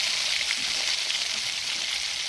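Nimki, a crisp flaky snack, deep-frying in hot oil; a dense, steady sizzle runs close and loud throughout with no voices.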